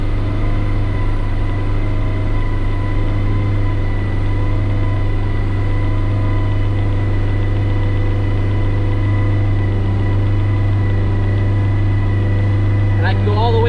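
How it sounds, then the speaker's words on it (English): Honda K24 engine held at 3000 RPM on a dyno, a loud steady droning hum with a strong low tone throughout, a brief clatter near the end. "you'll see the dyno holds it at 3000 RPM"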